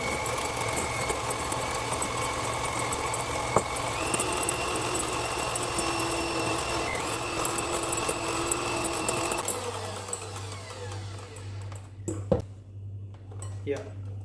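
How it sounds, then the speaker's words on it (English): Electric mixer whisking egg whites with sugar for tiramisu, a steady motor whir with a high whine running continuously, shifting in pitch near the end, with a voice talking over it. "So now I start to whisk the whites with the sugar."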